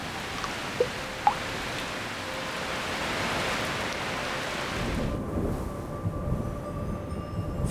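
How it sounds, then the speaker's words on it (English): Rain falls steadily over the Amazon rainforest, a dense even hiss broken early by two faint sharp knocks, with a low rumble underneath that deepens after the midpoint. "As clouds pass over forests, they feed on water vapor from trees until they are saturated and it rains."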